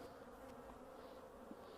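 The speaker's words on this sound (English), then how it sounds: "So you listen to the bees." A dense, steady hum of many honey bees buzzing close by in an open hive, a soft continuous drone with no talking.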